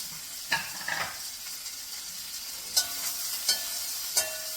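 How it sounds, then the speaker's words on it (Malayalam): Onions frying in oil: a soft, steady sizzle with a few sharp clinks of a utensil against the pan. "ഇതിൽ നിന്ന് കുറച്ച് നമുക്ക് ഒന്ന് വറുത്ത് കോഴി മാറ്റി വെക്കണ്ടേ"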